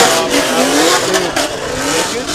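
A drift car at a Formula Drift ProAm seeding round goes to full throttle, with a loud, close engine rev that rises and falls and tires squealing through the slide.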